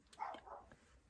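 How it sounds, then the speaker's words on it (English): A pet dog gives a quick, faint pair of short barks, distant and muffled, in an otherwise quiet home setting. "My dog is barking."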